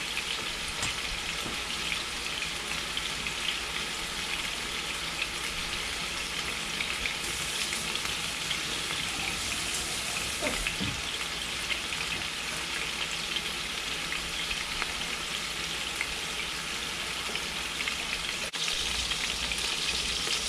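Pork ribs cooking in a pan with cilantro, lime, garlic and honey butter, giving a dense, continuous, even sizzle and crackle, heard up close with no talking and one brief soft knock partway through.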